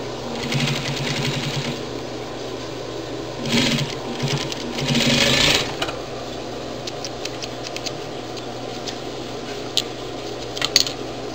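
A domestic sewing machine stitches fabric for a quilted phone holder in quick mechanical bursts, with pauses in between, close by and fairly loud. Light handling clicks and taps fill the gaps near the end.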